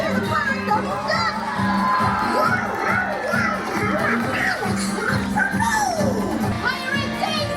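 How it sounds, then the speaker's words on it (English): An audience of adults and many children cheers and shouts at a pirate show on the Disney Fantasy cruise ship, lively and loud, with excited voices rising throughout. "Please give a big buccaneer cheer to Pirate Double Duck!"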